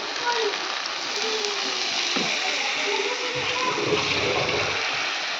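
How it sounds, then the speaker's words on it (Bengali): A little water poured into a hot pan of spices, with a steady splashing gush and sizzle at close range for several seconds. "এখন এটা দিয়ে দেবো সামান্য একটু জল দিয়ে দেবো"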